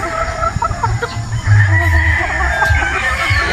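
Boston pullet chickens at a game farm in Batangas cluck and crow nearby, with several overlapping bird calls and a louder burst of crowing midway, all over steady background noise.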